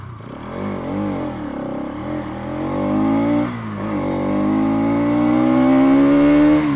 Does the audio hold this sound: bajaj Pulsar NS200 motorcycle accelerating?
yes